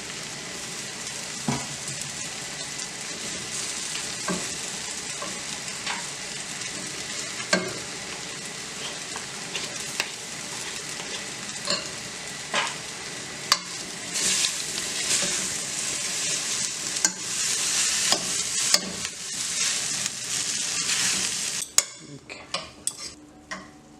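Cooked noodles are tossed with a fork in a hot frying pan, a constant hiss of frying under scattered metallic clinks and scrapes that grow busier toward the end, then stop abruptly; close, with no talking.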